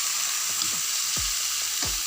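Steady loud sizzling of onions frying golden in a pan for egg curry, with a few soft scraping and stirring sounds breaking through the hiss.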